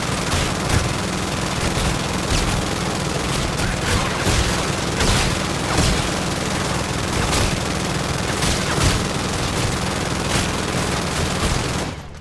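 The VPR submachine gun in Infinite Warfare Zombies fires nonstop with infinite ammo, a dense, unbroken stream of rapid shots for about twelve seconds. Sharper bursts and booming impacts stand out from the roar before it cuts off at the end.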